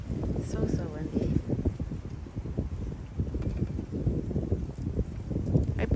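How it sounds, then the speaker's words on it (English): Gusty wind roars and buffets steadily across the whole stretch, loud and close with rumbling bursts, with no voice in it. "It's so windy. If I stay quiet, you can probably hear it."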